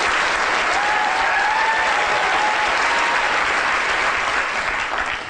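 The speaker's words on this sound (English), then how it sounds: "a big round of applause to Kate and Billy" Sustained applause from a large lecture audience fills the room at a steady, loud level for several seconds, with a faint voice briefly audible underneath, then begins to taper slightly at the end.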